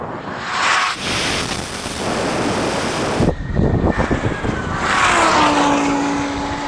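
An 1,800 hp Lamborghini Huracan and a Rimac Nevera in a drag race, a loud roaring pass and whoosh of wind and engine noise that swells, cuts briefly, then returns with a rising whine.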